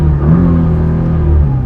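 A 2010 Nissan GT-R engine rumbles loud and close, holding a steady throaty revving drone with a slight swell in pitch throughout.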